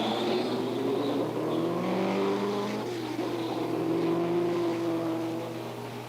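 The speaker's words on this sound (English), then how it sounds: "he's jumped into the car now, and he's going to attempt to start it" A Lotus racing car at the 1967 Canadian Grand Prix firing up after a push start, its engine droning and rising in pitch with rough, sweeping revs over a steady background hum.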